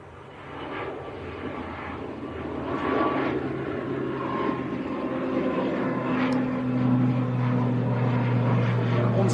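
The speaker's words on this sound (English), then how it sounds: "This one's a Logan Air getting airborne." A Loganair ATR turboprop takes off from Manchester Airport, its engine drone swelling steadily from a moderate hum to a louder, sustained roar with a low propeller tone settling in toward the end.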